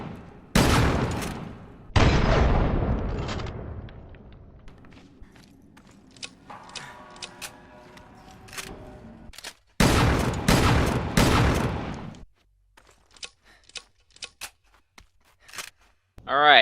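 Pump-action TAP 194 shotgun firing in Resident Evil: Revelations 2, loud separate blasts early on, then a slower stretch of clicks and handling, followed by a rapid cluster of shots with mechanical pumping between them.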